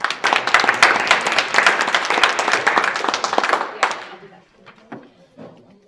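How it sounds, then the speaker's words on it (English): Applause from the audience at a city town hall meeting in East St Louis, dense loud clapping for about four seconds that tapers off abruptly into scattered claps and quiet room noise. "let's give another round of applause for our guests today."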